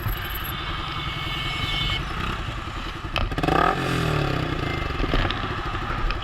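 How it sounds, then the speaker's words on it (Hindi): A Yamaha R15 V3 motorcycle fitted with an Akrapovic full-system exhaust sits standing and is revved, a loud close engine note with rising blips and some clattering in between. "तो एक बार खड़े करके सुनाते हैं आपको एग्जॉस्ट नोट।"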